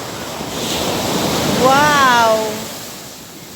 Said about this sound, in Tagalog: Yung malalaking alon.